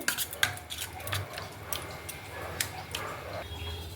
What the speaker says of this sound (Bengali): দইটাকে আমি ভালোভাবে ফেটিয়ে নেব।